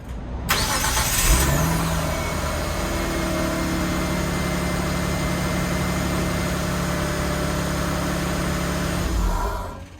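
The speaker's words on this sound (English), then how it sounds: "we are going to go ahead and start this vehicle while it is up in the air" A Mitsubishi engine cranks and catches with the car raised on a lift after a starter replacement, then settles into a steady, loud, close idle with a constant low hum before a brief change near the end.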